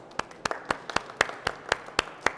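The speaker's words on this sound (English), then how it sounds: "everyone give each other a round of applause" A small panel audience at a comic convention claps in a sparse, uneven patter of distinct close hand claps, roughly a dozen separate smacks, with no voices over them.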